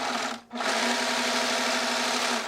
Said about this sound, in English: After that, I overlock all the edges except for the necklines.